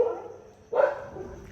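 Street dogs sheltering from rain on shop roofs, one giving a single close bark after a short lower yelp, with faint background noise around it.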